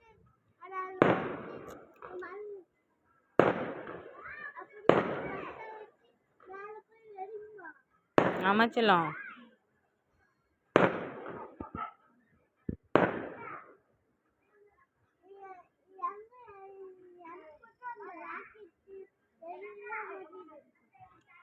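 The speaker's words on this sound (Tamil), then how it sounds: "கீழே வெடி பற்ற வச்சுருவாங்க அது மேலே அப்படியே வானத்தில் வந்து நல்லா கலர்ஃபுல்லாக வெடிக்கும்" Several sharp fireworks bangs burst in the sky at irregular intervals at a village temple festival, some crackling, with children talking and calling in between.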